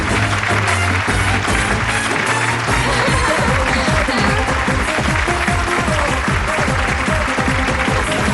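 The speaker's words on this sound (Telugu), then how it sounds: "ఆ ఉత్తమ కోడళ్ళు ఒకసారి పైకి లేస్తే వారిని చప్పట్లతో సత్కరిద్దాం." An audience applauding at a gathering to honour the best daughters-in-law: loud, continuous clapping that fills the whole stretch, with a tonal musical backing underneath.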